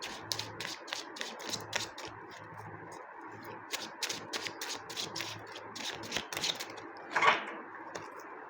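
Tarot cards being drawn and handled from a deck, with soft rapid taps and papery flicks in a loose rhythm and a brief rustle near the end, close and faint.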